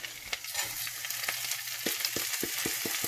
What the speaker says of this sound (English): The reason why we stir fry the lentil with the garlic and onions